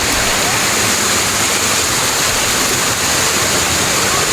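Water rushes and pours continuously at Busay Falls, a loud, dense, unbroken roar of the waterfall up close, with no voices.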